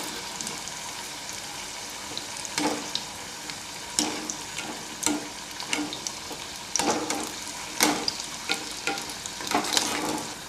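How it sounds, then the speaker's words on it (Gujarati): Raw mango samosas deep frying in hot oil, a steady close sizzle broken by occasional louder bursts and scrapes as they are placed and turned, with no voices. "તો હવે આપણે સમોસાને ડીપ ફ્રાય કરી લઈશું"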